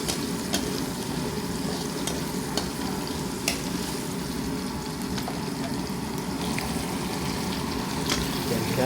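Garlic and onion sizzle in a hot pan while being stirred, a continuous close crackling hiss with occasional sharp scrapes and clicks of the utensil against the pan.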